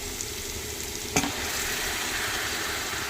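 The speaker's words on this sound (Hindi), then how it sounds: "मैं इसमें डाल दूँगी अदरक और हरी मिर्च का पेस्ट, और इसको भी अच्छे से घी ले लूँगी भून" Ginger and green chili paste frying in ghee gives a steady, even sizzle throughout, with one sharp utensil tap near the middle and no voices.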